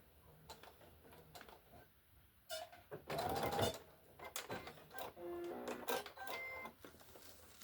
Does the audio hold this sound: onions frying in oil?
no